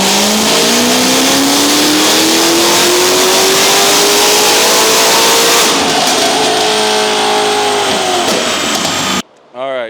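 A Corvette ZR1 engine revs hard and loud on a dyno, the pitch climbing steadily as it winds out, then cuts off abruptly before a brief final rev.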